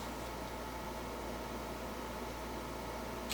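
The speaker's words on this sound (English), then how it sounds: "I'm going to let y'all see the difference with the air conditioner on and off" A room air conditioner running, a steady, even broadband hiss and hum that holds at the same level throughout with no breaks or talking.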